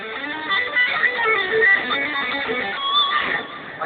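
Distorted guitar tone from a Roland guitar synthesizer setup, a dense buzzing sustained texture with shifting held notes, steady and fairly loud, with no talk.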